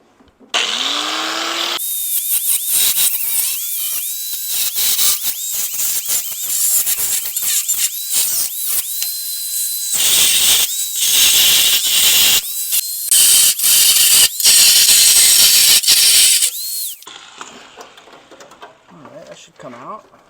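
A power tool screeches and hisses in repeated bursts of cutting through the rusted rocker panel of a square body truck, with short pauses between passes and a few quiet moments at the start and end.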